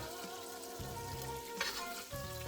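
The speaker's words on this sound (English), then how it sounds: "added my 2 tablespoons of butter, and I'm just basting" Butter sizzles and spits steadily in a hot pan while monkfish is basted, with faint scraping and stirring movements and a brief louder splutter partway through.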